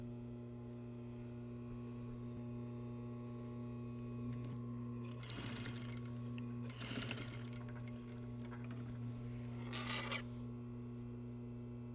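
A sewing machine tacks a facing on a garment, running in a few short bursts of stitching over a steady mechanical hum, with quiet gaps between runs.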